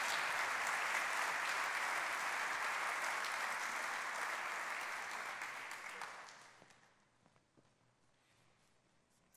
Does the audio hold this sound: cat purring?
no